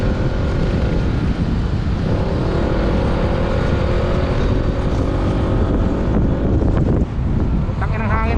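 Loud, continuous wind rush roars over the microphone while bikers ride motorcycles, with engine drone beneath and brief bits of talk near the end.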